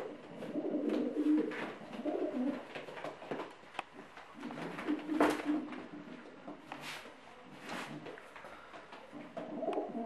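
Several Polish racing pigeons coo softly in low, throaty bursts, with occasional clicks and rustles nearby.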